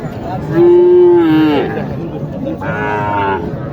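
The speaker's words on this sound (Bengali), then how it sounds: "নান্টু ভাইয়ের গরু সবগুলো দেখার চেষ্টা করি" Sahiwal cattle at a Bangladeshi cattle market let out two deep moos nearby, a long drawn-out call followed after a pause by a shorter one, over a low market murmur.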